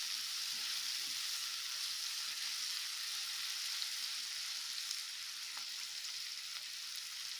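Garam masala powder sizzles in hot oil in a cooking pan, giving a steady, even hiss that carries on without a break. It is fairly quiet, with no voices.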